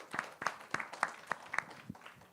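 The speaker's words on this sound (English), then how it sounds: "please a round of applause for our speakers" A small conference audience claps for the panel speakers after a talk on balancing economic growth and sustainability, with a few distinct, fairly faint claps in an uneven rhythm.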